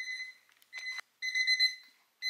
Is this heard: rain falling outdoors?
no